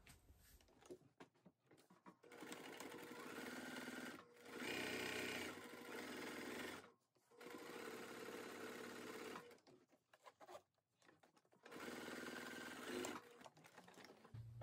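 A sewing machine stitches a fabric backpack in three sustained runs, each whirring steadily and then stopping abruptly before the next.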